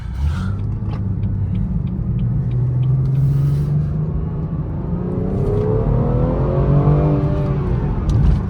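A BMW 440i with its B58 engine drives along, a deep steady exhaust rumble and whirring tire noise inside the cabin, the engine note climbing as the car accelerates toward the end.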